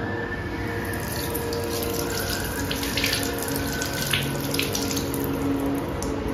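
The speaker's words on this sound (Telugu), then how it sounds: "దీన్ని ముందుగా కాయ కడిగి శుభ్రం చేసుకోవాలి" Cucumbers are washed under a running kitchen tap, with a steady broadband rush of water splashing into a sink and a few brighter splashes as the vegetables are handled, continuous and close with no talking.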